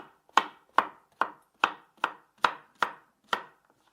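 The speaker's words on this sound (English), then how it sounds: "you have to cut those vegetables into roughly equal pieces" A knife chops vegetables into roughly equal pieces on a cutting board, eight crisp, evenly spaced strikes in a steady rhythm, close and clear with no talking.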